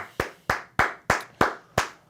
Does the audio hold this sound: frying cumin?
no